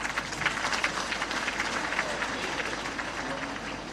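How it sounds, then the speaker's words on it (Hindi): An audience at an event with the President of India applauds Rumi Devi, a rural Rajeevika brand ambassador, with sustained crowd clapping that continues evenly throughout. "उनके लिए एक बड़ा ताली तो हो जाए"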